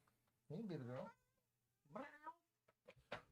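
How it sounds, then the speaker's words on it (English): A cat meows twice, long and plaintive, at an indoor door, followed by a few soft scratching clicks, fairly close in a quiet room. "I have a cat scratching at my door."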